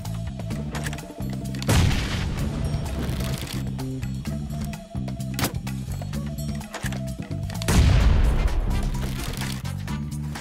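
In a battle-royale shooter, crossbow bolts bombard an area, with two heavy booming explosions about six seconds apart over steady looping game music and rapid clicking effects.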